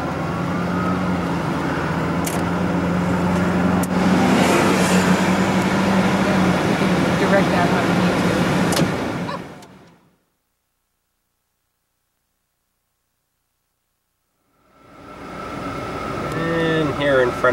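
Steady interior road and engine noise inside a moving car, with talk over it, cutting to near silence for several seconds before the drone returns.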